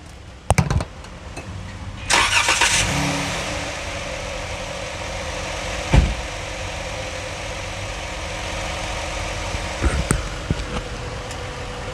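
A 3.6 Pentastar car engine idles steadily with a few clunks and knocks, then the running sound drops away as it is switched off.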